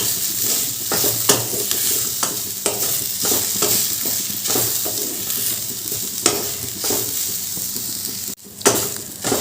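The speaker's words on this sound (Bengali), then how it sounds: "এবার রাঙালুগুলো একটু ভালো করে ভেজে নেব" Grated sweet potato fries in a pan with a continuous close sizzle, broken by repeated scraping stirs of a spatula at an irregular rhythm and one sharp clatter near the end.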